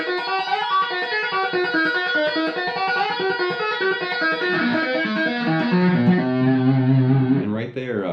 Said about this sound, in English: this is a tapped pedal point idea that revolves around E harmonic minor